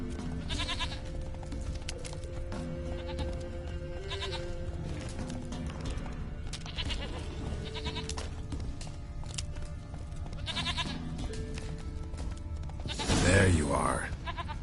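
A goat in the Witcher 3 video game bleats a few times in an outdoor game scene, with hoof clops and other game sounds, a voice speaking, and a louder burst of noise near the end.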